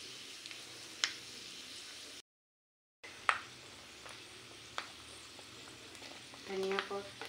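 Paneer samosa filling shallow frying in a pan gives a faint, steady sizzle with a few sharp clicks and stirring scrapes, and a louder crackle near the end.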